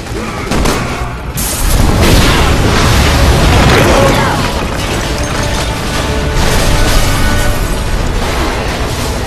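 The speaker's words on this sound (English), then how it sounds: "Shoot the gas! We can blow these things to kingdom come!" Gas explosions in the Resident Evil 6 video game: a heavy boom erupts, followed by sustained rumbling blasts and debris noise, with game voices calling out amid the din.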